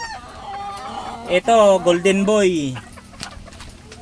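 Backyard gamefowl, roosters and hens of named fighting-cock bloodlines kept for sale, give a loud, close drawn-out call with a falling tail lasting about a second and a half, set against quieter background clucks while someone talks briefly.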